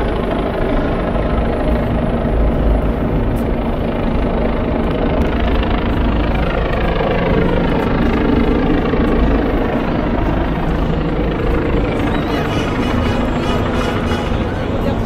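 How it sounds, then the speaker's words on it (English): A helicopter hovers over Brooklyn Bridge, its loud, steady rotor drone filling the air continuously with a low rumbling throb. "there's a helicopter just hovering around"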